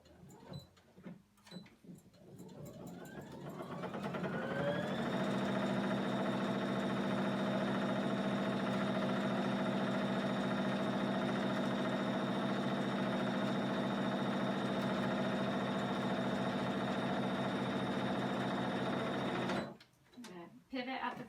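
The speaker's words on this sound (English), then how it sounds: "I'm sewing through the wrong side of the fabric now, and I'm going to get started." A sewing machine stitching a French seam on the wrong side of a toddler-size pillowcase, whirring up to a steady, loud, even hum for about fifteen seconds before stopping, with brief handling sounds at either end.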